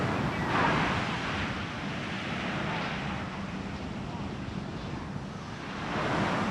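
Surf and wind on the beach at Hard Rock Punta Cana, a continuous broad wash of waves with gusty wind buffeting the microphone, no break throughout.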